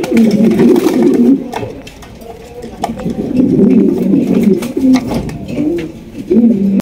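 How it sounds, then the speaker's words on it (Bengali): Large king pigeons coo nearby in a loud, repeated rolling rhythm, with several overlapping throaty calls filling the space at a pigeon market and someone talking faintly beneath them. "এখানে কিন্তু আরো এক জোড়া কিং কবুতর আছে, দেখতেই পাচ্ছেন বিগ সাইজের"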